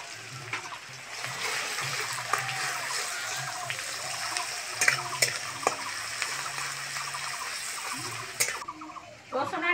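Chopped onion and garlic paste fry in oil in a pan, a continuous close crackling sizzle with scattered stirring scrapes and clinks, faint background voices at times.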